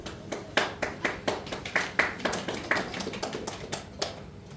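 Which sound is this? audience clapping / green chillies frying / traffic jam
audience clapping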